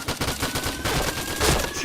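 Fast bursts from a T77 rifle in a shooter video game, rapid close shots crackling in quick succession for about two seconds.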